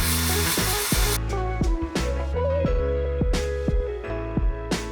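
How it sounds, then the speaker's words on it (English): A power tool sands the cut edges of a QK65 keyboard half plate, giving a loud, steady whine that shifts pitch in bursts as it bites and eases off the workpiece. "let's pull out the power tools and sand this down and smooth out those edges"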